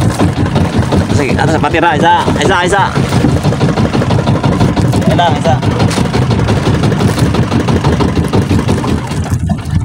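A fishing boat's engine runs loud and steady throughout, a constant throbbing drone while people talk and call out over it.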